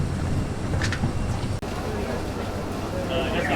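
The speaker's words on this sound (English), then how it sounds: "we're getting on the ferry boat." Rumbling engine and wind noise on a ferry boat in Charleston, with water wash and a brief handling bump midway, steady and fairly loud.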